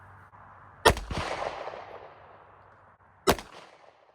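Two sharp gunshots ring out a couple of seconds apart, each a loud crack with a short echoing tail, heard through earplugs at an outdoor shooting setting.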